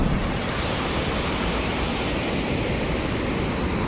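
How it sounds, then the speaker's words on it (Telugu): Rushing stream water flowing past a forest campsite at Maredumilli, a steady, dense, broadband wash that stays even and close throughout with no voices. "చూడండి ఎలాగో మంచి వాటర్ ఫ్లో"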